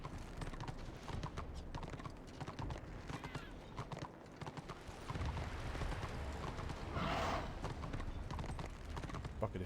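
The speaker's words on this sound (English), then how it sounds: "See if I could do this on my horse without falling in the water." Horse hooves clip-clop in the online fantasy game Warhammer Online, a steady run of rapid hoofbeats with a brief splash of water midway, fairly quiet and alone without talking.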